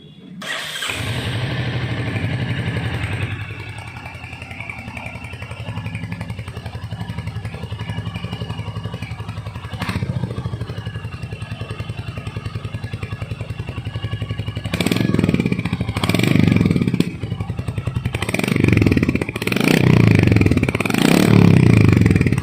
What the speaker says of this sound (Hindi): तो अब सुनते हैं इस बाइक का एग्जॉस्ट नोट।